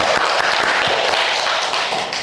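Classroom applause for a student group at a university teaching session, a dense steady patter of many hands clapping close by for about two seconds, tapering slightly at the end.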